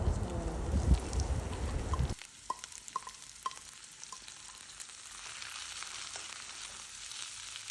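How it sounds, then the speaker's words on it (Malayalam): Sliced onions sizzle loudly in a hot pan for about two seconds. The frying then drops to a quieter hiss, broken by a few sharp scrapes and taps of a spoon against the pan. "ഇതിലേക്ക് കട്ട് ചെയ്ത് വെച്ചിട്ടുള്ള സവാളയും കൂടെ ചേർത്തിട്ട് നന്നായിട്ട് തന്നെ ഒന്ന് വഴറ്റിയിട്ടെടുക്കണം"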